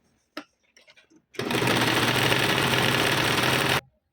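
Sewing machine stitching a blouse, running loudly in one continuous burst of about two and a half seconds after a few faint handling clicks.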